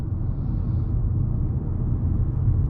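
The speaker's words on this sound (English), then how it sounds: "I wouldn't say it's the most pleasant sounding 4-cylinder, if we're being completely honest" An Acura TLX A-Spec four-cylinder engine drones as a low, steady rumble from inside the car while it is driven, with constant road noise and no clear rise or fall in revs.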